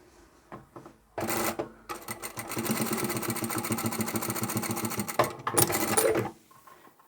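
A sewing machine stitches down the double-folded contrast fabric edges of a lanyard in fast mechanical runs, starting with short bursts, then a long continuous stretch, then another short run, close and clear with no talking.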